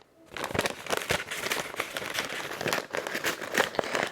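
Packing paper crumpled nonstop by hand while plant shop orders are packed, a dense, close, loud crinkling that rustles on for several seconds with no talking.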